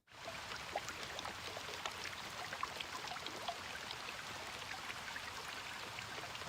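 Steady rain falls in the video game Blue Archive, a continuous soft hiss of drops spread evenly and fairly faint throughout, with no voices.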